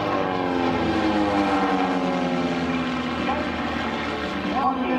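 An aerobatic propeller aircraft rolls overhead at the 2012 Pietermaritzburg Airshow in South Africa, its engine a loud, steady droning buzz with shifting pitch that fills the whole stretch.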